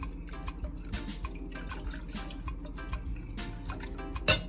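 Soy sauce and water poured into a pot to season a vegan soy chunk dish, heard as faint, irregular splashes and trickles with small drips and clinks over a low background hum.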